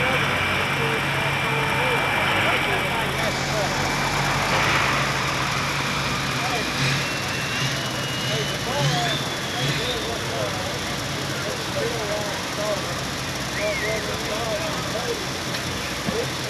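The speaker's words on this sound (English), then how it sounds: "Carl Lloyd on the Big MF 1135. Last tractor of the night." The Big MF 1135 pulling tractor roars steadily and loudly through its run as the last tractor of the night at the White Cross tractor pull, with faint voices in the background.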